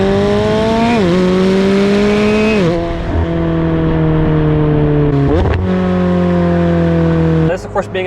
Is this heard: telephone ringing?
no